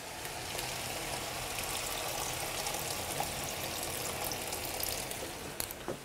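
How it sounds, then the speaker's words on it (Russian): Water poured steadily into a pan of minced meat for chili con carne, a continuous even splashing hiss lasting several seconds, fairly loud and close, with a few small clinks near the end. "Теперь нужно добавить сюда воду."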